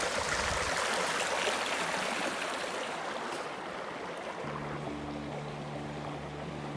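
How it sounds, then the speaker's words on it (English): Rushing river rapids give a dense, steady roar of churning water. Partway through, a low droning motor hum joins underneath. "Some rapids."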